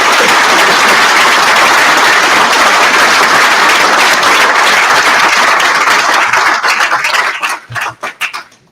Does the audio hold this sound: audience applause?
yes